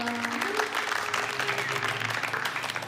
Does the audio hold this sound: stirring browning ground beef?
no